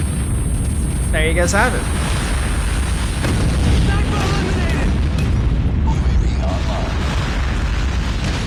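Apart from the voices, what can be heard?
nuke explosion in video game Call of Duty Mobile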